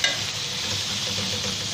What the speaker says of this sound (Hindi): कीमा डाल के इसमें खूब अच्छी तरह कीमे को हम फ्राई करेंगे।